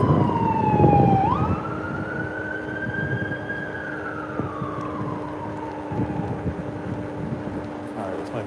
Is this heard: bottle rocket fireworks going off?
no